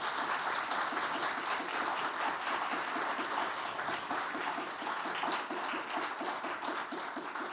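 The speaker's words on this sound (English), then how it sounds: "Please, a round of applause for Mr." An audience at a gallery talk on kogei, traditional Japanese crafts, applauds a speaker with sustained, even clapping at moderate distance, a dense rattle that carries steadily from start to finish.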